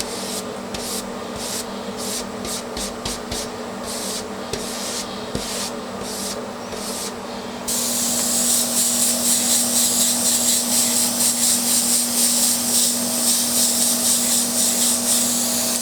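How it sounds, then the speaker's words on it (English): An airbrush sprays paint onto wood in repeated short bursts, then a continuous loud hiss, over a steady compressor hum. "what I'm spraying out of the airbrush right now is really straight out of the bottle"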